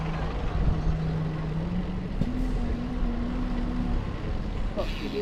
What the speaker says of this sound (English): Here's the bus again.